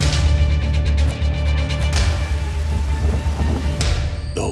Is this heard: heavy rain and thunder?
yes